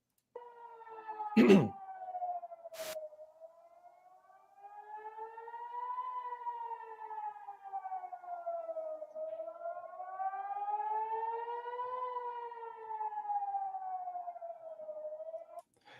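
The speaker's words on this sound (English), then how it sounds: "Basically sirens going off" A long air raid siren wails slowly up and down in repeated cycles, ringing out from a distance, with a sharp bang early on.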